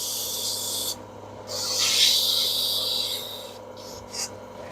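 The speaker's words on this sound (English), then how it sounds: "sandpaper is not to shape, it's just to remove tool marks" Sandpaper rubs against a turned wooden stair spindle on a lathe, smoothing away tool marks and softening bead edges; a steady broad hiss swells and fades in close sweeping passes, with a couple of short scratchy strokes at the end.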